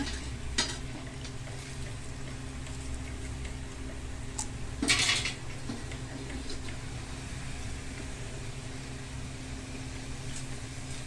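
Steady oil sizzle of banana chips frying, with a few sharp clinks and scrapes as pieces are scooped out, close and continuous.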